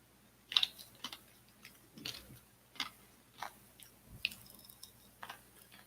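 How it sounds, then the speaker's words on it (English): Someone chews lychee-flavoured popping candy close to a microphone, producing soft irregular crunches and crackles spaced about once a second in an otherwise quiet room. "Lychee striking popping candy."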